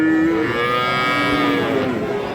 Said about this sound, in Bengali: দুইটাই হলিস্টিয়ান ফ্রিজিয়ান জাতের ষাঁড় বাছুর।